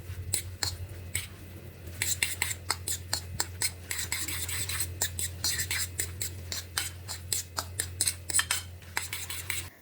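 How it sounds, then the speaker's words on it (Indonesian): A spoon scrapes and clinks against a bowl as a sauce mixture with oyster sauce is stirred for green chilli glass noodles, making repeated quick rhythmic strokes over a low hum, with no talking. "Lalu diaduk-aduk supaya tercampur merata."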